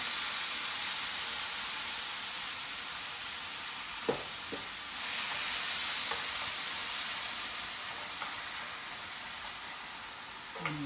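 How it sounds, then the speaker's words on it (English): Steady, hissing sizzle of tomatoes frying in hot olive oil in a pan, with a few light clinks and stirring sounds. "Then we're going to go ahead and add our tomatoes when it's nice and hot. Little sizzle."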